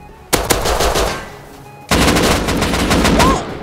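Semi-automatic pistol gunfire in the survival game Rust: two loud bursts of rapid shots, the first short, the second longer after a brief lull, close and alone with no talk.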